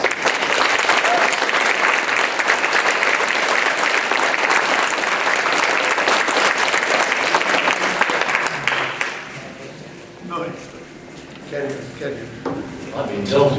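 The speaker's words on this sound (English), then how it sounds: "I would like you to give them a round of applause" An audience claps loudly and steadily for about nine seconds, the thick applause then tapering off into scattered claps as a voice resumes speaking.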